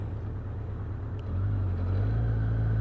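A carbureted Yamaha FJ1200 motorcycle engine pulling hard through the gears, a low rumbling drone that swells louder and deeper partway through as the throttle opens, close and continuous.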